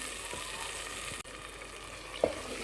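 Cashews and grated coconut frying in oil in a pan for chole masala, a soft steady sizzle with faint stirring scrapes and a small clink near the end, no talking.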